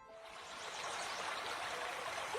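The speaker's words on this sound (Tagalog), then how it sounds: "Yung ilog asul ang tubig at kitang-kitang malinis ito." Clear blue river water flows in a remote countryside spot in Negros, a steady broadband rush that swells slightly at the start and then holds even, with no talk.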